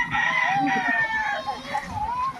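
A fighting gamecock crows nearby, one long drawn-out call that wavers and trails off with a second rising note, loud and close.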